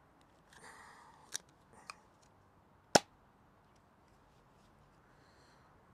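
A modified Nerf Jolt blaster fires a half-length dart with a single sharp snap, preceded by a couple of small clicks from priming, in a quiet room.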